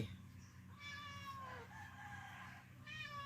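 A cat nearby in a home kitchen where a northern Thai miang snack is being prepared meows several times, drawn-out, wavering calls at moderate volume against quiet room noise.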